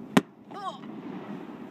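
A single sharp firework bang goes off at a Christmas festival in Lake Arthur, Louisiana. It is followed by a brief whistling tone and a low background murmur of an outdoor crowd.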